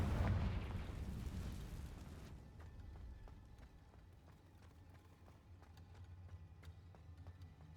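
A Confringo blasting spell bursts in the video game Hogwarts Legacy, a loud booming blast that dies into low rumbling and quieter scattered game sounds.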